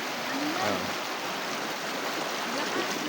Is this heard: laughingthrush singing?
no